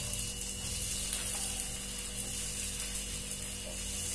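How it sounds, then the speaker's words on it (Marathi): Coriander vadi (kothimbir vadi) shallow frying in oil on a tava, a steady bright sizzle that continues evenly throughout with a faint low hum beneath and no voices. "आता आपण त्याला शालो फ्राय करून घेऊया तव्यावर"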